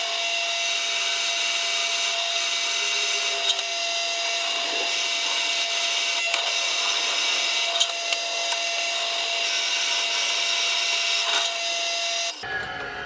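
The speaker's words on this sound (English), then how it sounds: "There's no real science to Frosner bits, they're just big drills, but you can overlap the holes like this" Forstner bit boring overlapping holes into the wooden body of a Goldtop Les Paul guitar build, a loud steady whine of drill and cutting wood running continuously, with a sustained tone throughout before stopping abruptly near the end.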